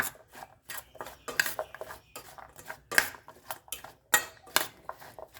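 A spoon tosses sliced onion salad with white vinegar in a dish, making quick rhythmic scrapes and clinks against the bowl, close and fairly quiet, with no talking.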